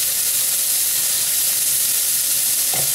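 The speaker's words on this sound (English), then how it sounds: "we just want to stir fry the scallop a little bit" Baby scallops stir-fried in a hot pan or wok, a dense steady sizzling hiss with a brief stirring scrape near the end, loud and close with no talk.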